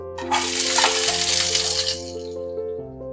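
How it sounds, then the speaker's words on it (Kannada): Onions tipped into a pan of hot oil for bisi bele bath, a burst of bright sizzling and crackling that starts abruptly and holds steady near the mic, with a faint tonal hum underneath and no talking. "ಈಗ ನೋಡಿ, ಈರುಳ್ಳಿ ಹಾಕೊಳ್ಳೋಣ."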